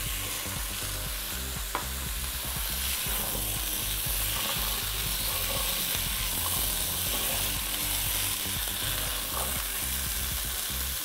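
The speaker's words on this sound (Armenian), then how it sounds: "Տապակում ենք" Vegetables, pumpkin and chickpeas fry in a pan with a steady, dense sizzle, stirred now and then with soft scraping clicks, close and continuous with no talking.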